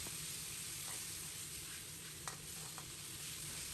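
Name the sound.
stir-frying marinated pig liver in a hot wok over high heat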